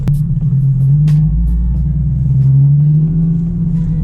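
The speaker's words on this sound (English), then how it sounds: "Illegal U-turn, nobody needs to know about this." Nissan 370Z engine droning loud and steady through a slow U-turn, a low continuous rumble that swells slightly as the car pulls around, close-up from inside with no talking.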